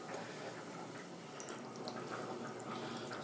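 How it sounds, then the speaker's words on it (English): Wort drains from a mash tun during all-grain home brewing, a steady close trickle of liquid running into a vessel with faint splashes, quiet and continuous without talk. "I'm just draining some of the wort out of the mash tun, and I just do it until it's clear"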